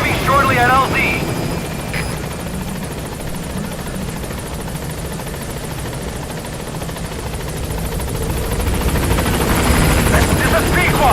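A helicopter approaches in Metal Gear Solid V, its steady rotor thrum and turbine whine holding loud throughout and swelling slightly toward the end, with radio voice chatter over it at the start.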